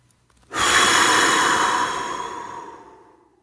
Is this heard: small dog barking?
no